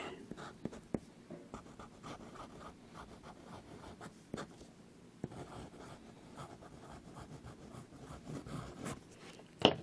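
A bamboo calligraphy pen with a 1.9 nib scratching across paper in Diamine Internal Orange ink, soft irregular strokes punctuated by a few sharp ticks as the nib lifts and lands, close and quiet, with no talking.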